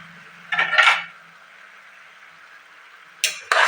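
A spoon clanks and scrapes in a frying pan as vegetables and coriander leaves are stirred for vegetable pulao, two short bursts of metallic clatter separated by quiet, close and fairly loud.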